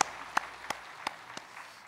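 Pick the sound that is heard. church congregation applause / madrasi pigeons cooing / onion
church congregation applause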